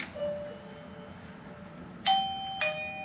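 A Eufy E330 smart lock's doorbell chime rings out as two bright, clear tones in quick succession, each ringing on briefly over a faint room background, with no voices.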